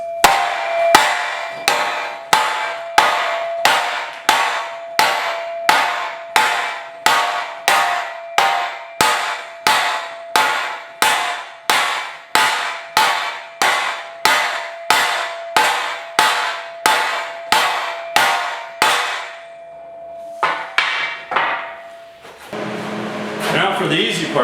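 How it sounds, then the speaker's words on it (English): Steady hammer blows ring out on the flared metal edge of a rear bumper being built for a 1956 Mercury/Ford, about two strikes per second and loud and close, ending in a few scattered taps and shop noise. "I'm just going to hammer it down."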